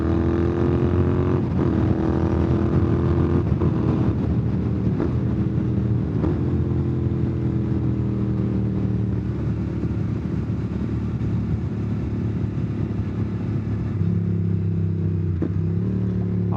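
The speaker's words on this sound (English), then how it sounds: "Let's try some clutchless shifting" A Royal Enfield GT650 motorcycle fitted with a Nuke slip-on exhaust drones steadily while riding, its engine pitch stepping up and dropping with clutchless gear shifts, with wind rush throughout.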